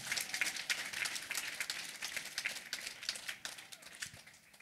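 A church congregation breaks into steady, dense applause, a close crowd of hands clapping continuously with slight swells in intensity and no speech over it.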